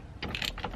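A ratchet tightens a 16 mm steering wheel bolt on a BMW 1 Series interior, giving a short, close run of quick clicking pawl ticks.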